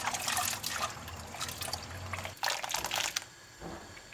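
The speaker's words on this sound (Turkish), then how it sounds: "üzümleri içerisine böyle suyunu süzerek atıyoruz" Water drains and trickles off washed raisins being strained, close splashing and dribbling pours in uneven bursts, with a quieter drip toward the end.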